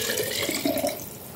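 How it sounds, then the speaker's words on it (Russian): Tap water running over a jar being rinsed in a home kitchen while cabbage rolls are prepared, a brief, soft trickle and splash. "Потом мою банку."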